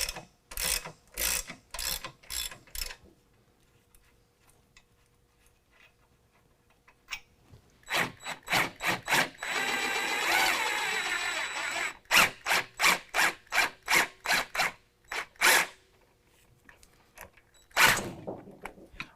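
Ratchet wrench clicking in quick bursts while removing the 18 mm rear shock bolts on a 2018 Jeep JL 2-door, with a longer continuous run of ratcheting in the middle, close and fairly loud, with no talk.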